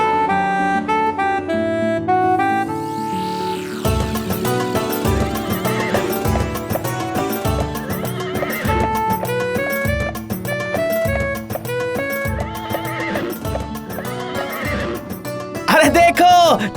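Cartoon horse sounds over a light music score: repeated whinnies and neighs with rhythmic clip-clop hoofbeats, clear and close throughout.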